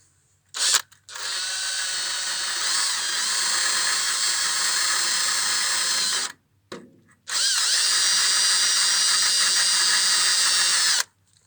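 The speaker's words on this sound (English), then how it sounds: "So we use a battery drill, the wire brush to clean it up." A cordless drill spins a wire brush over old truck bolts in two long, loud, buzzing bursts with a harsh scrubbing hiss, separated by a brief stop and a few clicks.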